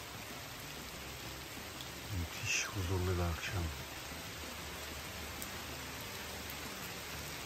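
Steady, soft rain falls in the evening outside a bungalow in Rize, a gentle hiss close by, as a person speaks briefly over it.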